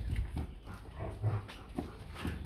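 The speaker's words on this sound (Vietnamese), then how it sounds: "Chó con hôm nay" Rottweiler puppies whimper faintly in short soft cries under low background rumble and handling noise.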